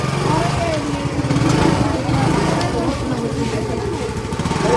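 A motorcycle engine runs nearby with a loud, rough, pulsing rumble that rises and falls slightly, while people talk over it.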